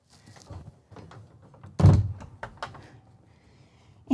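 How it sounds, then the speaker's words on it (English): A bathroom pivot door in a 2024 Newmar Mountain Aire 3823 motorhome swings and lands with one solid thunk, set among soft clicks and handling noises, with a sharper knock right at the end. "I can still get into this bathroom area because of that cool pivot door"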